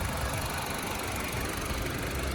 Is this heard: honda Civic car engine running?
yes